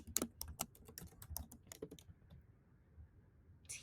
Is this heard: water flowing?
no